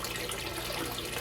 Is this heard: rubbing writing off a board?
no